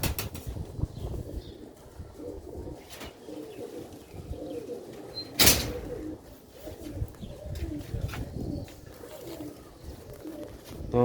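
Pigeons perched on a rooftop coo softly and repeatedly at moderate distance, with occasional wing flaps and a sharp brief clatter partway through over a low ambient background.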